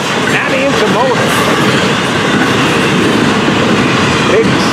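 An intermodal double-stack freight train passes close by on a summer evening in Central Florida, with a loud, continuous rumble and steady wheel clatter throughout.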